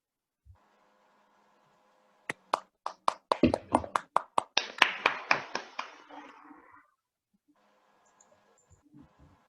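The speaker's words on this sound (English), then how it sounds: "Let's give a round of applause for our general evaluator, DTM Edith Garde." A small group at a club meeting claps in a brief burst, starting with a few sharp separate claps that quickly build into a short round of applause and then fade, followed by quiet.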